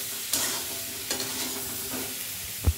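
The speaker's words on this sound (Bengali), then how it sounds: "দেখুন এখনও মা ভেজে যাচ্ছে আলুটাকে।" Boiled potatoes for jeera aloo stirred and frying in a pan, a steady oil sizzle with a few scraping stirs of the spoon and a soft clunk near the end.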